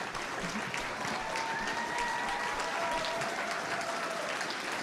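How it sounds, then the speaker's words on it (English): Marathon crowd at a Games Done Quick speedrunning charity event bursts into sustained applause and cheering, a dense steady roar of clapping filling the room for several seconds with a few whistles rising above it. "They're going wild, folks."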